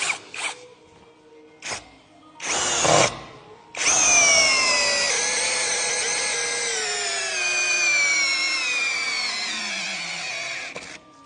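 A cordless power drill whirs in short bursts, then runs in second gear in a long rising whine as it drives a screw, slowing slightly before stopping.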